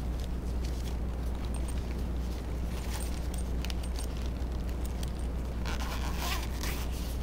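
A zipper runs along a padded multimeter storage case in short scraping pulls over a steady low hum, close by, with no talking.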